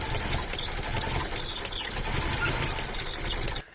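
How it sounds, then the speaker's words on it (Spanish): A car engine with a faulty engine coolant temperature sensor runs roughly on too much fuel, close and loud, a steady uneven rumble that cuts off abruptly at the end. "Y ahora se inyecta más gasolina y precisamente el motor se quiere apagar."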